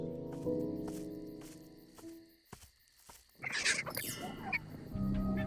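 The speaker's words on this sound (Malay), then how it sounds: "Macam mana seekor burung boleh berbunyi seteruk tu?" A bird gives a harsh, raspy squawk amid rustling and footsteps, with a few scattered knocks and a rough grating call near the end.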